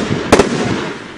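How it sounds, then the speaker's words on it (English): Bonfire night fireworks explode in a quick double crack against a steady crowd and ambient roar, loud and close. "Fireworks."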